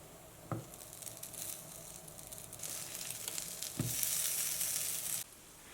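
Small lotus root and egg pancakes with sesame and sausage sizzle in a covered pan over medium heat, a steady hiss that swells brighter toward the end, broken by a couple of sharp knocks and scrapes.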